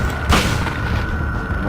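A single loud shotgun blast from the Silent Hill video game, a sharp boom followed by a short decaying rumble, heard alone without talk.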